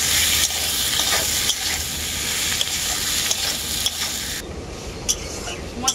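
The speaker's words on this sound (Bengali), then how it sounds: "এরপর আমি খুব ভালো করে একসাথে সব কিছু কষিয়ে নেব।" Masala with potato, onion, tomato and chopped coriander leaves sautéing in a pan for a Bengali rui fish curry, a steady close sizzle with scraping stir strokes throughout, no talking.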